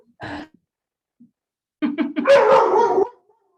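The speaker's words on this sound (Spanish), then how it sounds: "Ay, ahora es mi perro" A small pet dog gives a short yip, then a run of quick barks rising into a longer howling bark, loud and near, with brief quiet gaps between.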